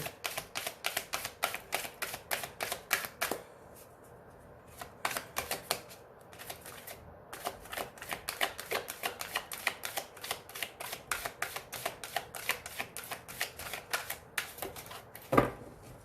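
Oracle cards, the Oracle des Miroirs deck, shuffled for a reading, a long run of quick crisp riffling clicks in rapid bursts with short pauses, close and fairly quiet, one louder snap near the end.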